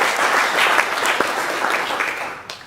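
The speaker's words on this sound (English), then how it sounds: "Let's have a warm round of applause for our friend" Warm, full applause from a seminar audience, a dense continuous clapping crowd heard close and loud, easing slightly toward the end.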